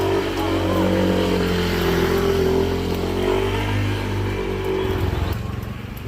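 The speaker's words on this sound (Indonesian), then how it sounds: "awas motor" A motorcycle passes close on a road in Cimanggung on the way to Kareumbi, its loud engine drone holding steady and then fading away after a few seconds.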